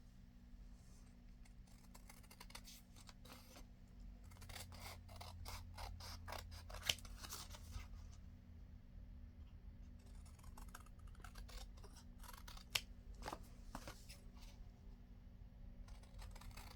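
Scissors trim a paper scrapbook tag, a faint, close series of crisp snipping cuts coming in quick bursts with short gaps between them.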